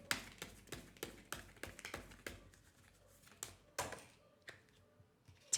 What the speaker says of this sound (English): I'm going to shuffle for more.